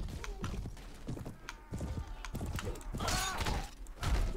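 A horse in the video game Mount & Blade Warband clip-clops with a few scattered hoof thuds amid clattering game effects, fairly close, mixed with a man's brief exclamations.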